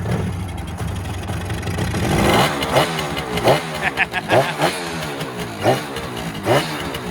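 A two-stroke motorcycle is started on its electric starter: the engine catches after a short churn, then settles into a nearby raspy idle punctuated by quick revving blips.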